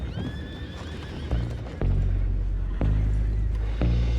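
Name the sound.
horses neighing in the video game Red Dead Redemption 2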